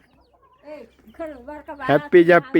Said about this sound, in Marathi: म्हातारी आजीच्या कोंबड्या बघा कशा आहेत.